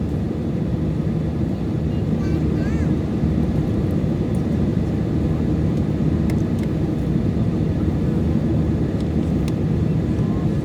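Steady, loud engine roar and cabin rumble inside an airliner climbing out of Kathmandu on a flight to Bangalore, holding constant throughout with no break.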